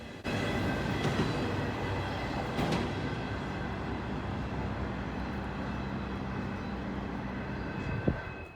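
A Norfolk Southern freight train with a heritage distributed power unit rumbles past in a steady, loud, continuous roar of rolling wheels and engine noise, with a brief clank near the end.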